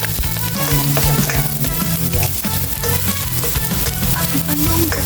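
Garlic frying in a hot pan, with loud, continuous close-up sizzling and crackling throughout, plus occasional clinks and scrapes of stirring.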